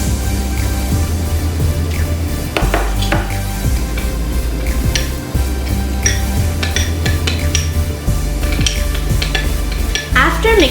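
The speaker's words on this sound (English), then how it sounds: "And then we stir it." Bread mixture being stirred in a bowl, steady scraping and sloshing strokes with occasional utensil knocks against the side, continuous, close and loud, with no voices.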